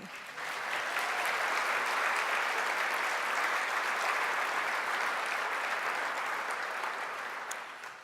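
Steady applause from a crowd, clapping continuously at an even level for several seconds before fading slightly at the end.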